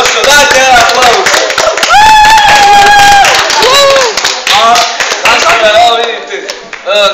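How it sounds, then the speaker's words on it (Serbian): An audience in a TV studio breaks into applause, a dense patter of clapping that runs throughout under loud, sustained voices and music-like tones. "dajte jedan aplauz"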